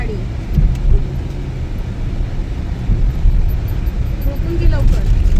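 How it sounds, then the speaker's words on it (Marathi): A road vehicle travels along a winding road, with a continuous low rumble of engine and tyres heard from inside, steady and moderately loud. "गोल गोल फिरणार आहे आता गाडी."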